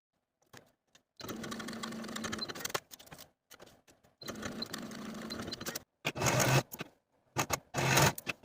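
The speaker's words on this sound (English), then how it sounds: "Sew with a 1/2 inch seam allowance and finish the raw edges" A sewing machine stitches shoulder seams with a half-inch seam allowance, running in several steady bursts separated by short pauses, close and clear.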